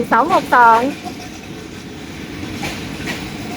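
Train passing through a busy Bangkok railway yard on a Saturday evening, a soft steady rumble and rattle after a brief burst of voices at the start.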